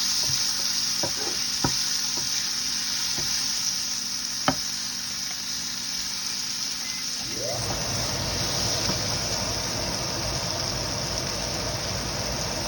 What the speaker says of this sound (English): I just want them to slowly wilt, saute. I'm going to keep stirring them while the heat comes down a little bit.